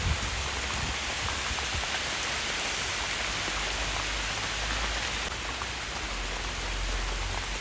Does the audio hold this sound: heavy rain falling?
yes